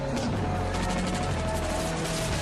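Gunfire in an action scene from the James Bond film A View to a Kill, a dense loud burst of shots blended with the film's booming soundtrack throughout.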